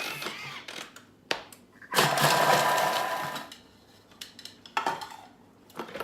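A Thermomix chops garlic cloves at speed 5. Scattered clicks and knocks lead into a loud, roughly one-and-a-half-second whirring burst of the blade, which then trails off into quieter handling noises.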